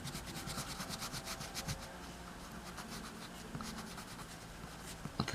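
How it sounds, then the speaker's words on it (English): An eraser rubs back and forth over pencil lines on paper while a Baryonyx dinosaur is being drawn, giving a close, steady run of quick scrubbing strokes with no voices. "Erase some of the lines we don't need."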